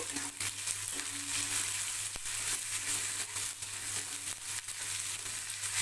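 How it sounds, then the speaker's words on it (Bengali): Chopped onion lightly frying in a pan for badshahi chicken, a soft, even sizzle heard up close at low volume with one brief tap partway through and no speech. "পেঁয়াজ কুচিটা একটুখানি পেঁয়াজটা হালকা ফ্রাই হবে"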